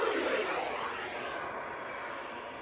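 A Horizon Hobby F-18 Blue Angels 80mm electric ducted-fan RC jet makes a high-speed pass, a loud, steady high-pitched whine and roar of air that fades slightly as it moves away, with no talk over it.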